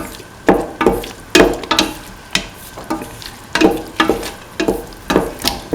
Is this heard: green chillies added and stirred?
yes